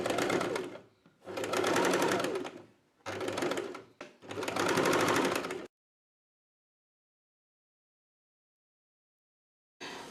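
A sewing machine stitches folded fabric piping for a hand panel in loud bursts, four runs of rapid mechanical chatter separated by short pauses, then silence and a brief restart at the end.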